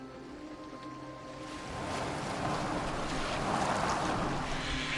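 A boat moves over the sea in Assassin's Creed Valhalla, a broad rushing wash of water and wind that grows louder and steadier after the first couple of seconds, with no voices.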